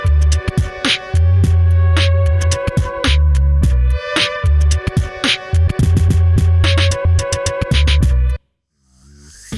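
A beatbox loop-station track with effects panned out plays loud and dense: punchy rhythmic kicks and snare hits repeat under layered tonal loops and vocal textures, then the mix drops out abruptly near the end.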